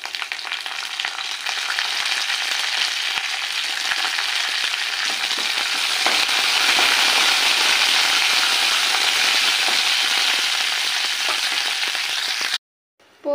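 Curry leaves and spices crackle and sizzle hard in hot oil as a tempering for upma, a loud continuous spatter that swells in the middle and cuts off abruptly near the end.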